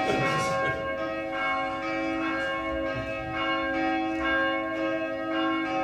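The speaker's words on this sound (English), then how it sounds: "I love it when the bells ring." Church bells ring out steadily in a series of resonant, overlapping strikes with a sustained metallic hum, fairly loud and clear with no talking.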